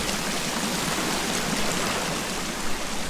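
Steady rushing river water in the survival game Sons of the Forest, a broad continuous flow running through a mountain, close and even throughout with no talk over it.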